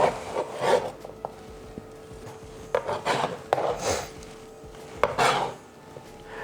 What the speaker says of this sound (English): So we'll go ahead, prepare our veg